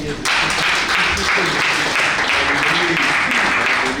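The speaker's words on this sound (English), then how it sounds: "A round of applause, please." Audience applause at a Longrich investment program event fills the whole stretch as a dense, steady wash of clapping, with a voice speaking over it.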